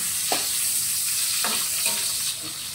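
Onions frying with pork-foot adobo in a pan, a steady close sizzle with a few soft scraping stirs of the spatula at intervals, no voices.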